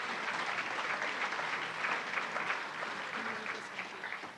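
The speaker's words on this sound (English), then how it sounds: "Let's give a round of applause to our graduates in entomology." Sustained applause from a graduation ceremony audience saluting entomology graduates, steady dense clapping throughout at an even level with no talk over it.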